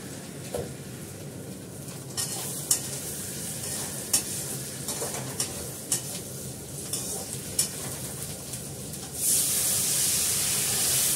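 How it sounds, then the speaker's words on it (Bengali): Thinly sliced potatoes with ginger paste fry steadily in a pan, a continuous close sizzle broken by sharp clicks of a spatula stirring, the hiss swelling louder near the end; no talking. "পাতলা করে আলু দিয়েছি আর একটা ছোট আলু। ভালো করে ভেজে নিলে সেদ্ধ হতে বেশিক্ষণ লাগবে না।"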